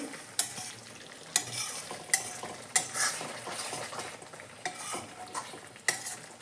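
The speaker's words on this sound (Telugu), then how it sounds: "కొత్తిమీర కొంచెం మిక్స్ చేసుకునేసి" A spoon stirring coriander into drumstick curry in a pan, soft sizzling under a series of sharp scrapes and clinks against the pan spaced about a second apart, close and quiet.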